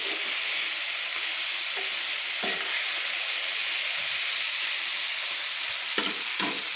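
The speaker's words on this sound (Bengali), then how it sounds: "দেখুন বেগুনটা দিয়ে আমি ভালো করে আমি নেড়ে নিচ্ছি" Brinjal pieces stirred with a spatula in hot oil give a steady, loud sizzle and hiss close up, broken by occasional scraping strokes, with no talking.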